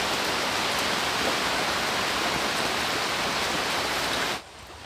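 Steady light rain hisses evenly across a broad wash, then drops away abruptly near the end as the shower eases.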